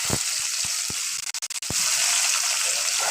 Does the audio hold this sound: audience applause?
no